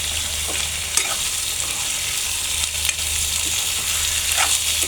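Dried ribbonfish (churi shutki) sizzles steadily as it is stirred in a frying pan, with continuous close frying hiss and occasional light clicks of the spatula scraping the pan.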